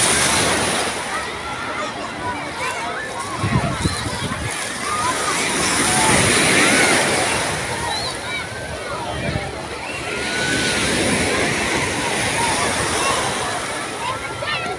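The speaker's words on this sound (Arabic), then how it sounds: "اصور لكم شط من الشواطئ بتاعت اسكندريه الجميله" Sea waves rolling in on a crowded Alexandria beach in summer: steady, loud wash and splash of surf with swelling surges, mixed with the murmur of the crowd, and a person talks over it throughout.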